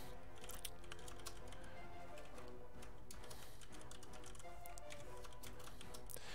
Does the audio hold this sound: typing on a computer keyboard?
yes